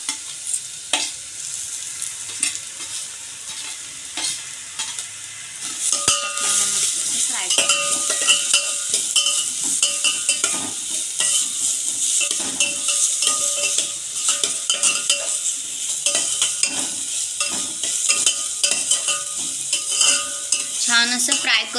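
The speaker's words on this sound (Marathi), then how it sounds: "छान असं फ्राय करून घ्यायचं आहे याला 2 मिनिट" Chopped vegetables stir-fry in oil for manchow soup, a continuous close sizzle with frequent rhythmic clinks and scrapes of a spatula against the pan, quieter before the stirring picks up.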